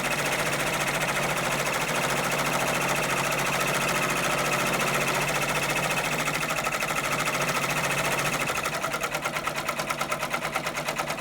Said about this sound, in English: I love to watch the design stitch out